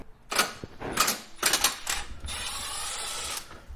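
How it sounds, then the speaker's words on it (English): Bolts are taken off the front bumper of a third-generation Toyota Tacoma: several short, rapid mechanical ratcheting bursts, then a steadier whirring run of a tool, fairly quiet and close. "Now we're gonna remove the 2 bolts."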